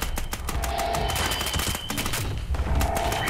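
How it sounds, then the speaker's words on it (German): Rapid bursts of gunfire in the video game Fallout 76, dense overlapping shots and booming impacts crowding the whole moment, loud and close, with faint game sounds underneath. "ich hab schon 6-mal auf dich geschossen"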